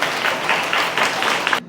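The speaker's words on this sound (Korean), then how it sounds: "뜨거운 박수로." A short burst of audience clapping greets a company CEO taking the stage at a talk, dense and fairly close, with faint rhythmic pulses before cutting off abruptly.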